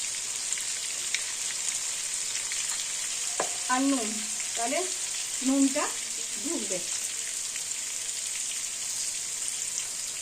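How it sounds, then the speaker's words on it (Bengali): Potatoes frying in a pan with turmeric added, a steady soft sizzle throughout while a person speaks briefly over it in the middle. "এই ভাজার মধ্যে আমি একটু হলুদ দিয়ে দিই"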